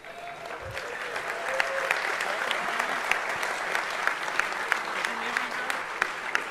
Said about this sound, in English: They were clapping you.